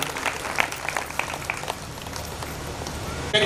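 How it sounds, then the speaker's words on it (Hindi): Audience applause at a Shri Ganesh Mahotsav seminar in Moradabad, Uttar Pradesh, with a crowd clapping steadily and fairly close throughout, a few louder claps standing out. "तो थर के लिए फिर से जोरदार ताली बजाइए।"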